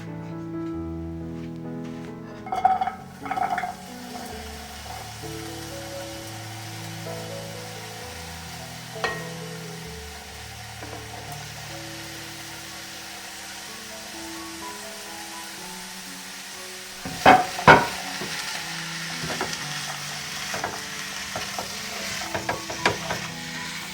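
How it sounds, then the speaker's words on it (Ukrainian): Pepper stewing in a pan on a low gas flame, a steady soft sizzle of frying throughout, broken by a few sharp clatters and scraping stirs, with a louder burst of stirring and utensil knocks toward the end. "Перчик вже трішки підтушкувався"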